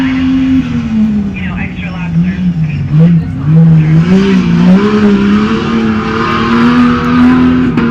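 An off-road race truck on a desert course in Powell, Wyoming, with a loud engine droning and shifting pitch as it passes, while an announcer talks over it.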